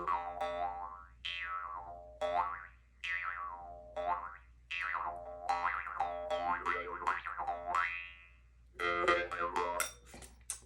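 A jaw harp twangs with a steady drone while tongue flicks sweep its overtones up and down in rapid wah-like swoops, played close and alone in phrases separated by short pauses.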